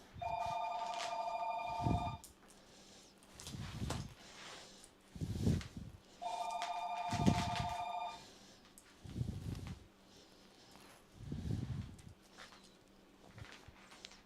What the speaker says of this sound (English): Humans let that phone ring until the damn thing picks up